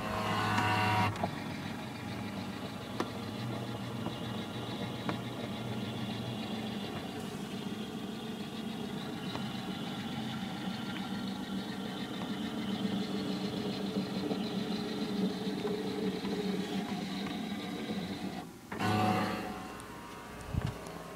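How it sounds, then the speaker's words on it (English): A home printer scanning a document, a faint steady mechanical whir with a low motor hum running for a long stretch, ending in a brief louder clunk of the carriage returning. "You can hear my printer."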